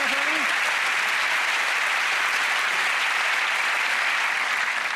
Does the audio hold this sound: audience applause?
yes